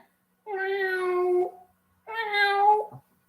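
A human voice imitates a regular grey cat meowing, giving two drawn-out, tonal meows separated by a short pause, fairly close and clear.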